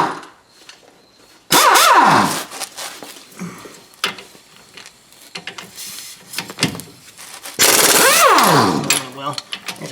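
Brake bolts on a 2003 Dodge Ram 4x4 front end being broken loose with a wobble extension: loud bursts of rapid impact hammering, separated by sharper metallic clanks and knocks.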